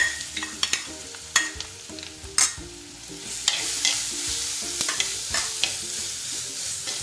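Crushed black pepper, cumin and ginger sautéing in oil for curry-leaf rasam, a bright steady sizzle punctuated by sharp spoon scrapes and taps against the pan, close up with no talk.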